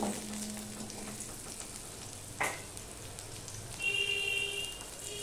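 Potatoes going into a hot pan for a no-onion, no-garlic ridge gourd curry, producing a steady close sizzle with a few brief clinks and scrapes.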